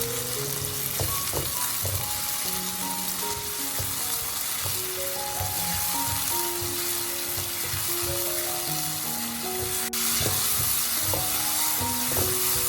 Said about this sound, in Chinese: 然后把切好的西红柿丁加进来，快速的翻炒均匀，将西红柿炒出汁水